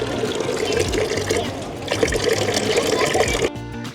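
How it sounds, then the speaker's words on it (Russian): Water splashes and trickles steadily close by from a public drinking fountain on a street in Belgrade, Serbia, a continuous bubbling flow that stops abruptly near the end. "Здесь находится один из прекрасных питьевых фонтанов, который посещают тысячи людей каждый день."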